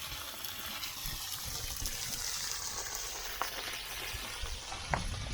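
Continuous hissing, trickling water pours and drains steadily from a hole drilled in an old steel boat's water tank, with a few small clanks near the end.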